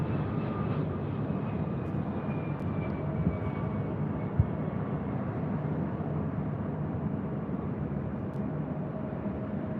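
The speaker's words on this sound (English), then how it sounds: "This is Delta Airlines 473 coming in from Boston, 757-200." A Delta Boeing 757-200 airliner arriving from Boston and coming in at LAX, a steady broad engine roar with a faint descending whine holding loud and constant throughout, with no talk.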